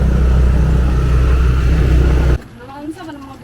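A habal-habal motorcycle taxi ride on the way to a village in the Philippine province: steady loud engine rumble with wind for over two seconds, then it cuts off abruptly, leaving a quieter background.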